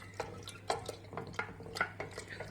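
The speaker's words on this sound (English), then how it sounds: "we are going to stir the wine" Homemade watermelon wine being stirred in a vessel, a series of soft liquid swishes and clinks spaced at irregular intervals, close and quiet with a steady low hum beneath.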